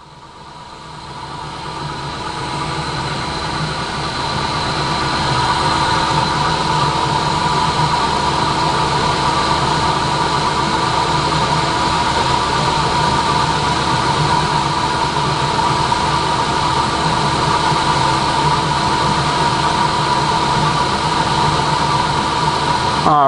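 Verteq 1800-6 spin rinse dryer with two stacked units, motors spinning at speed in a steady, continuous whirring hum with strong tonal bands, rising over the first few seconds then holding level and loud throughout.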